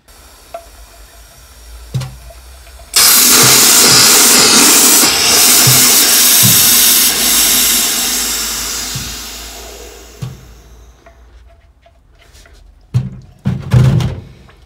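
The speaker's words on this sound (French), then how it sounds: "Donc on tire dessus une fois. S'il y a de l'air qui sort, c'est que le clapet fonctionne déjà." Loud sustained hiss of air escaping from a 220V air compressor's pressure relief valve when pulled during maintenance, lasting several seconds before tapering off, with clicks and handling knocks before and after.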